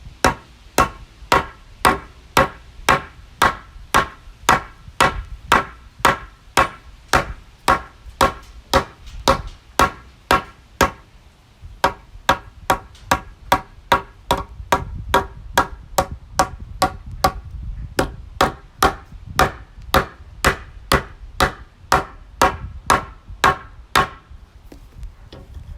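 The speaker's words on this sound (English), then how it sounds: "Don't want to hammer too hard because it causes the muscles to cramp up." Steady, evenly spaced hammer blows ring out close by, dozens of sharp strikes in a regular rhythm, with a short pause partway through before the pounding resumes.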